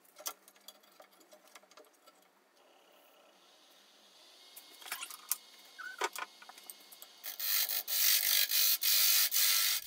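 A woodturning tool cuts away the tenon on a spalted beech bowl held in a jam chuck on a lathe. Light scraping and ticking come first, then the cutting grows into a loud, steady rasping hiss toward the end.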